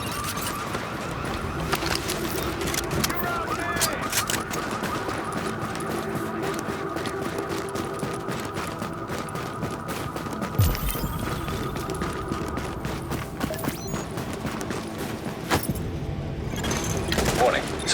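Gunfire rattles through a firefight in the shooter game The Division, with bursts and single shots layered over a busy, noisy combat background and occasional heavier booms.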